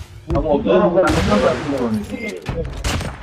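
Bursts of gunfire crack out in a squad-based shooter game, several quick shots and a short volley close together, with a player's voice talking over the shooting.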